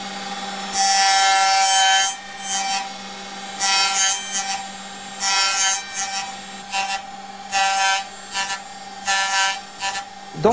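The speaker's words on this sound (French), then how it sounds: "Et par le stade de la ponceuse, nous allons faire des encoches ici dans les tefilines" A handheld sander grinds notches into tefillin in repeated bursts, a high rasping whine that starts and stops about every second, close and loud.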